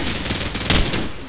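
Rapid bursts of Call of Duty gunfire, loud and close, rattling off in quick succession with one heavier volley near the middle.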